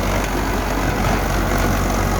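A Ford tractor ploughs hard, stony soil thick with grass, its heavy engine a loud, steady, unbroken low rumble running close throughout with no pauses.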